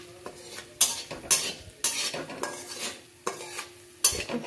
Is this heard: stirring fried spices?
yes